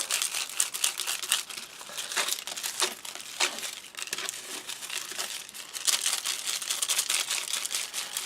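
Folded paper slips crinkle and rustle as they are shaken together for a giveaway draw, a steady run of close, dry crumpling bursts with no talking.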